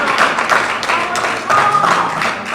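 An audience at a community gathering breaks into a round of applause, dense steady clapping filling the room for a couple of seconds, rising again near the middle.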